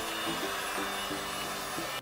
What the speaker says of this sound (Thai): หรือจะทำเป็นเครื่องดูดฝุ่นแบบนี้ก็ได้